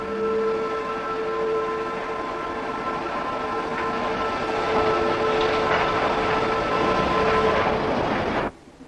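A Ffestiniog Railway narrow gauge steam train runs along a Welsh hillside with a loud, steady rolling rumble and sustained tonal whine, then cuts off abruptly near the end.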